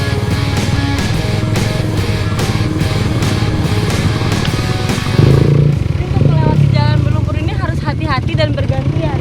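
Motorcycles ride a muddy trail with deep puddles, engines droning and revving steadily close by under continuous narration.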